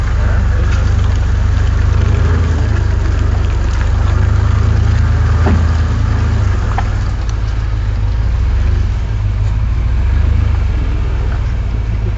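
A 4x4 off-road vehicle climbing a steep hill, its engine droning loud and low in a continuous heavy rumble that strains steadily throughout with no break.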